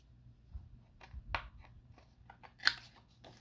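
Scissors snipping through decorative paper to cut out a pocket shape, a few soft separate crunchy cuts with one sharper snip near the end, close up and quiet with no talking.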